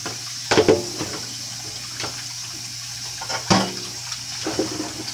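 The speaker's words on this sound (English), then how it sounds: "Alright, now, rinse my hands of all this goop." Running tap water splashing over hands being rinsed clean of sticky gnocchi dough in a kitchen sink, a continuous close rushing flow with a few louder splashes.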